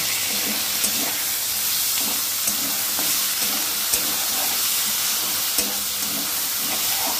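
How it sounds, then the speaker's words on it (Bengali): Brinjal and dried neem leaves frying in hot oil give a steady, close sizzle and hiss with light stirring clicks throughout, no voices. "তো সেগুলোই একটুখানি ধুয়ে দিয়ে দিলাম বেগুন আর নিম পাতা ভাজা।"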